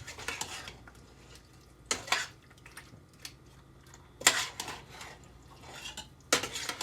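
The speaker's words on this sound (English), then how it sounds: "Give that a nice big stir." A spoon stirs shepherd's pie filling in a pot, giving a few sharp metallic clanks and scrapes spaced apart, near and clear in a quiet kitchen.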